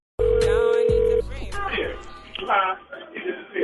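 Telephone tones for a prank phone call on a morning radio show: a loud steady dial tone and a second brief tone, then a voice speaking.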